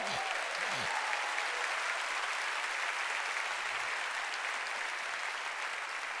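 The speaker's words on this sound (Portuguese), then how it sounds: "Você pode dar um aplauso ao Senhor?" A church congregation at an evening Baptist service claps together in praise, a broad sustained roar of applause filling the space, with a faint voice or two briefly audible beneath.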